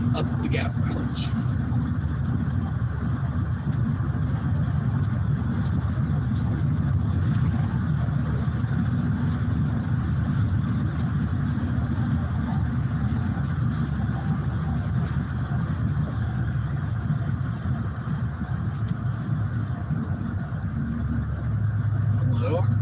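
A car rolls downhill with its engine eased off on a badly broken road, the cabin filled with a steady low rumble and road roar, punctuated by occasional bumps and rattles, while a person talks throughout.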